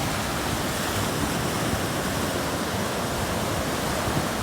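Waves roar continuously where a river flows into the sea at Pundakit, a dense, even rush of surf and churning water with no pauses.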